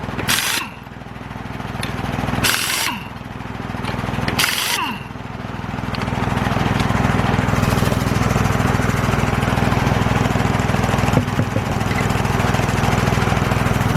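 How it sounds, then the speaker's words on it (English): An air compressor runs in a garage during front brake work on a 2004 Mazda MPV, a loud steady motor drone that fills the space, broken early by a few sharp bursts of impact-tool noise. "I'm going to shut that compressor off"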